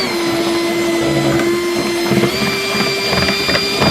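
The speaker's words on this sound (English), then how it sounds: "try and drill slowly and just let the drill bit do the work" A power drill bores slowly through a plastic plant pot, giving a steady, close whining motor tone with rough grinding texture throughout.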